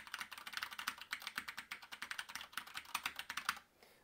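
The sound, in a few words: typing on 8-bit computer's mechanical keyboard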